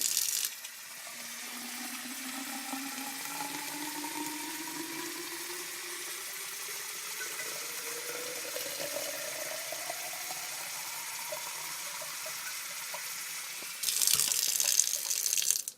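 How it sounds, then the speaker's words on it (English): Water runs steadily from a faucet into a tube, its gurgling tone rising gradually in pitch as it fills, ending with a louder splashing rush. "Now listen to the sound that the water makes when it fills up the tube."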